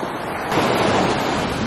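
Ocean waves wash in at Newport Beach with a soft, steady surf rush that swells a little after the first half-second, mixed with light wind buffeting the microphone.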